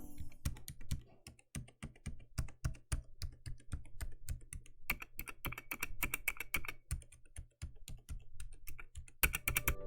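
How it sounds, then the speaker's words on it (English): Steady, fast typing on a Ducky One 3 Mini keyboard with silent red switches, soft, muted keystrokes, continuous and close with no talking. "Here's an audio example of what it sounds like."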